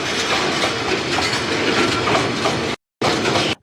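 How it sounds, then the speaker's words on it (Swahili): A freight train hauling 108 twenty-foot shipping containers pulls out from Mombasa port toward Nairobi, with a steady loud rumble and clatter of rolling wagons, briefly cut to silence near the end before resuming. "treni moja ikiwa na makasha 108 yenye futi 20 zikielekea Nairobi"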